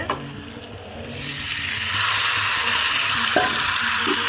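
Fish and potatoes frying in a pan: a quiet start, then a steady broadband sizzle swells after about a second and holds loud and close, with occasional stirring clicks and no talk.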